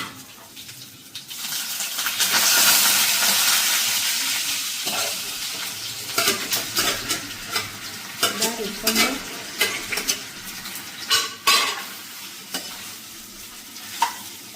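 Mustard seeds and cumin sizzle hard in hot oil in a pan for Gujarati dhokla tempering, a loud hiss swelling early then easing, followed by irregular stirring scrapes and sharp crackling pops, with no voices.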